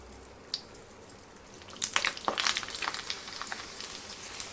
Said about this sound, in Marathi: आता आपण पापड वगैरे कुरडे तळून घेऊया पोह्याचा पापड